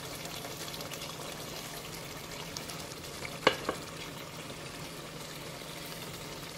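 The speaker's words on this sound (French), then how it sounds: "je mélange bien pour m'assurer que le cube se dissout complètement dans ma sauce tomate" Tomato sauce frying over medium heat while being stirred and a stock cube is crushed into it, a steady soft sizzle with a couple of sharp utensil clicks midway.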